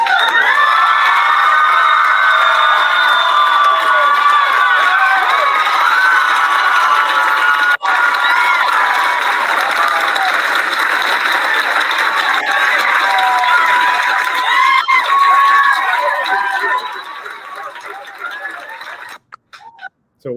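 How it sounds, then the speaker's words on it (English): A large crowd at a council meeting cheers and shouts after a vote, a dense, loud, continuous roar of many voices with high yells that holds steady, then thins and fades toward the end. "That's the crowd, I think, cheering"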